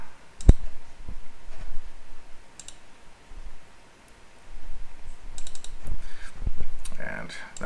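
Computer mouse clicks and keyboard taps at a desk while setting up a site in Dreamweaver, a few sharp scattered clicks at close range over a low background hum.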